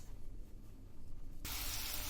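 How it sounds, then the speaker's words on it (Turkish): Dough pieces frying in oil in a pan give a sudden loud, steady sizzle that begins partway through, following a quieter stretch of low kitchen noise. "tavamıza yağımızı koyduk. Hamurlarımızı içerisine attık."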